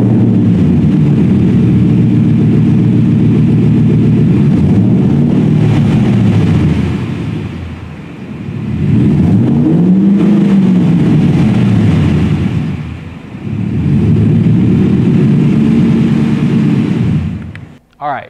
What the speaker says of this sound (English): Every Roush Raptor comes with a Roush Performance exhaust system, which this truck also has. And we'll go ahead and start that for you real quick.